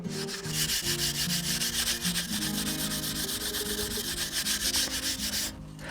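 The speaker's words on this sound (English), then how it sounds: "You can use any sandpaper from 30 to 120 and that should be fine." Sandpaper rubbing rust off a steel scythe blade in steady rapid back-and-forth strokes, close and continuous, with no voices.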